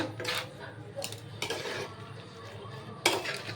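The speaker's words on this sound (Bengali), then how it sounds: "এবার নারকেলটা একটু নাড়িয়ে নেব" Grated coconut stirred in a pan with taro leaves (kochu shak): intermittent scraping strokes of a spatula against the pan, a few distinct bursts over a quiet background.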